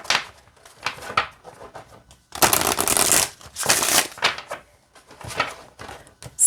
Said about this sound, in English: I'll show you how it shuffles.